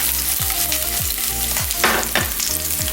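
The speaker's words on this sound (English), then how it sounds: "We can add our garlic and onion. Just fry a little bit." Garlic and onion fry in hot oil with a steady close sizzle, broken by a few soft stirring scrapes and a brief burst of louder crackling; nobody speaks.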